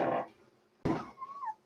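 A cat meows twice indoors, a short loud call followed by a longer rising and falling meow, close to the listener with quiet pauses between.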